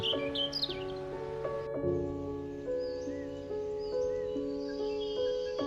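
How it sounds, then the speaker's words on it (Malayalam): Birds chirp and tweet in short bright calls, clustered near the start, over sustained musical tones. "അങ്ങോട്ടും ഇങ്ങോട്ടും കൂകി വിളിക്കുന്ന കിളികൾ"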